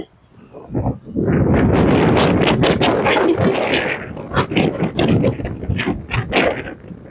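Strong gusting wind buffets the microphone on a wet, blowing coastline near Bowling Harbour, loud roaring rushes rising and falling in waves throughout with no talk.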